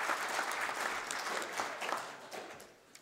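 Audience at a veterans' mid-winter conference clapping after a funding announcement, a fairly quiet patter of many hands that thins and fades toward the end.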